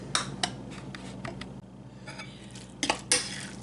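Cheese and egg beaten in a bowl for Mexican corn fritters, heard as a series of quick clinks and taps of a utensil against the dish, with short irregular bursts.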